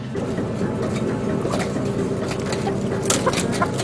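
Hens cluck and squawk in a crowded egg-farm barn, a dense, constant chorus of birds close by, with sharper individual calls rising over a steady mechanical hum.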